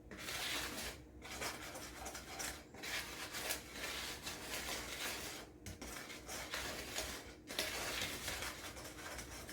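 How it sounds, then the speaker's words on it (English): Dry ingredients for apple fritter batter, seasoned with salt, are whisked in a bowl, giving a steady, continuous scraping and rubbing that carries on for several seconds with brief pauses, close and fairly quiet, with no talking. "I'm just going to whisk that together."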